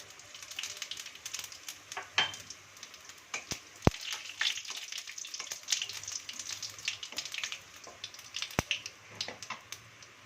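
Whole cumin seeds fry in hot oil for a dal chicken dish, giving a steady faint crackling sizzle with scattered small pops and a few sharp clicks, and no one speaks.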